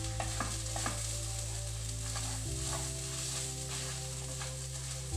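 Spices frying in a pan, a low sizzle with stirring scrapes, heard faintly beneath a loud steady electric hum that drops in pitch partway through.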